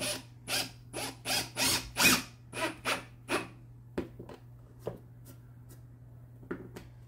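A screw is driven with a T15 bit into a crawlspace door board, giving about ten loud, evenly spaced whirring bursts up close, followed by a few faint scattered clicks over a steady low hum.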